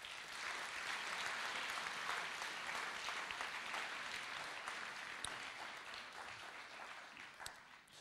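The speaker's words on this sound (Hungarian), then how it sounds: "szeretném megköszönni a presbiterek egész éves munkáját egy nagy tapssal" Sustained audience applause in a church gathering, honouring the presbyters for their year of work; dense, steady clapping from a large crowd that holds strong for eight seconds and only slightly eases toward the end.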